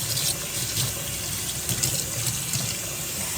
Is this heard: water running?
yes